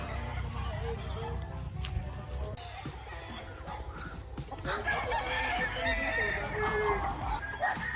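Roosters crow loudly at a gamefarm where fighting cocks and stags are kept, with several long harmonic calls overlapping near the end over steady low background noise and some nearby chatter.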